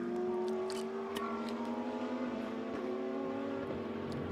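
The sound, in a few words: KTM race car passing downhill at Spa-Francorchamps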